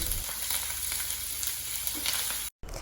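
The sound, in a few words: lentils, ginger, green chili and curry leaves frying in pan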